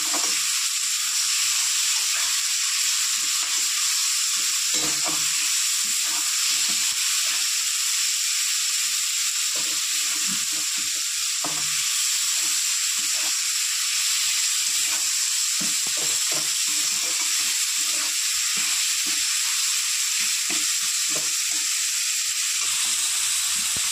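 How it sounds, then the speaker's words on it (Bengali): Tomato and onion fry in a pan with salt and turmeric, giving a continuous sizzling hiss with small stirring scrapes throughout, close and steady. "টমেটো আর পেঁয়াজ একটু ভাজা ভাজা করে নেব।"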